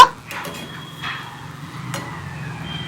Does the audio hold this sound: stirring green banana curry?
yes